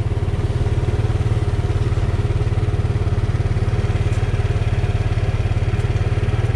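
A Yamaha Mio Sporty motorcycle engine idles up close with a steady, even putter, running on its own with a faulty rectifier that leaves the battery uncharged.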